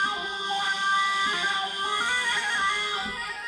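Korg Pa arranger keyboard playing a reed-like voice through a wah effect with raised sensitivity, a sustained, bright, nasal tone with shifting sweeps, steady and fairly close.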